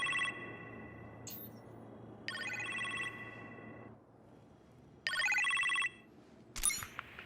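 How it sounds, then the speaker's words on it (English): A telephone rings in short electronic bursts in Iron Man VR, three separate rings with quiet gaps between, fairly clear over a low steady hum. "You appear to have a phone call in the kitchen"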